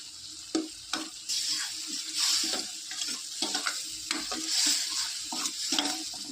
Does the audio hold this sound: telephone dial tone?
no